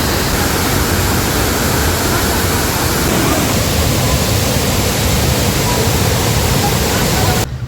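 Aruvikkuzhi waterfall at Thadiyoor, Kerala, fills the air with a loud, steady rushing roar of falling water, unbroken and close throughout.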